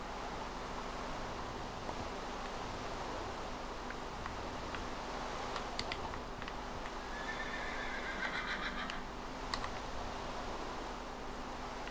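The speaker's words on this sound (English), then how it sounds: "Such a slow horse." Neighing and clip-clop sounds of a horse in the video game Minecraft, short whinnies rising above a steady noisy background with faint hoof clicks scattered through.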